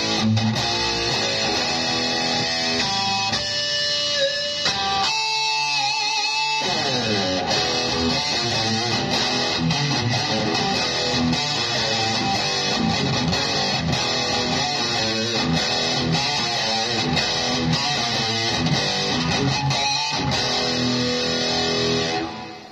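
Electric guitar played through a small Roland Cube 15X amplifier with a hall reverb effect, sustained chords and single notes ringing out with a wet, spacious tail throughout.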